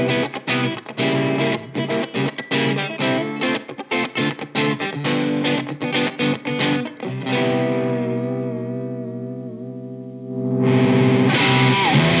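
A distorted Jackson Pro Series Dinky DK2 electric guitar on its neck pickup's inner coil plays choppy, rhythmic chords, then lets a chord ring out and sustain before a brighter burst of noise.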